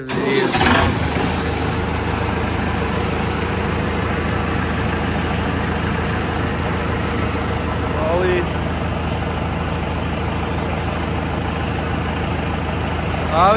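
A modified tractor diesel engine, boosted from 45 to 65 HP, cranks and catches, then idles with a steady heavy rumble, rising briefly as it revs; a voice talks over it.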